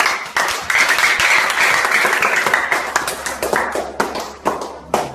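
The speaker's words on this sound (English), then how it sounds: "So can we clap for heaven?" Loud, dense clapping from an audience at a charity event in a school for the blind, sustained for several seconds before thinning into scattered claps.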